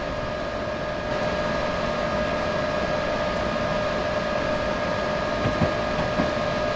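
A steady, even rumble of a train running in Train Simulator 2015, an Amtrak passenger train with head end power on, in bad weather on bad tracks, a continuous hum with a faint tonal whine and no talk.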